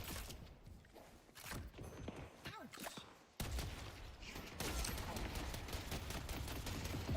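Automated turrets firing in a video game battle, rapid mechanical shots clattering among other game effects, growing louder and denser in the second half, with a voice talking over parts of it.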